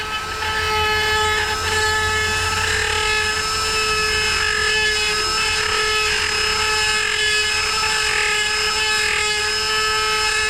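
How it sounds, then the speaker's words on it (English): A Dremel fitted with a very soft abrasive stone grinds inside a hole on a rear axle, a loud, steady, high-pitched whine with strong harmonics that runs unbroken for the whole stretch, with no speech. "I'll take a Dremel right here. Little, very, very soft abrasive stone on it."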